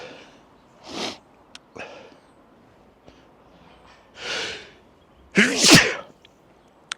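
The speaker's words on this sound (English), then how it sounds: "But now I can't stop sneezing." Several sneezes and sharp nasal snorts separated by quiet pauses, the last one loudest and closest, with no speech.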